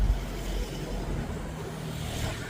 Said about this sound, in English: I'm walking against traffic.